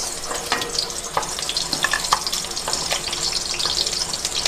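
Onion hits hot oil in a pan for shrimp and gourd noodles, a dense close sizzle with bursts of crackle and stirring scrapes, steady and loud without any voices.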